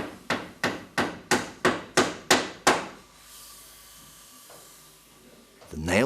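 Eight sharp, evenly spaced hammer blows drive nails into plasterboard, each strike loud and close with a short ringing decay, followed by a quieter pause and a final knock.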